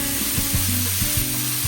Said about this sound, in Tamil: வெங்காயம் வதங்குகின்றேன், கொஞ்சம் பொறுக்கவும்